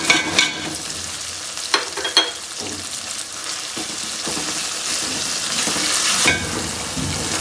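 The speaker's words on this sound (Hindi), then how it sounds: "हमने अपने मसाले को अच्छे तरीके से भूनना ही करना है, ताकि हमारे ऑयल छोड़ दे मसाला" Spices and softened tomatoes frying in oil while being stirred, a continuous close sizzle broken by repeated scraping and clattering strokes of a spoon in the pan.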